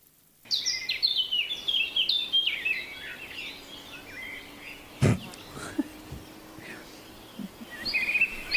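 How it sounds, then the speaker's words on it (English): Birds sing in bright, quick trilling phrases, loud at first, then quieter with a sharp knock midway and more chirps at the end. "The birds are singing."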